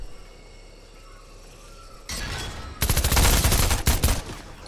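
Rapid bursts of Fortnite gunfire break in after a quiet stretch, growing louder and denser into sustained close automatic fire with brief gaps between volleys.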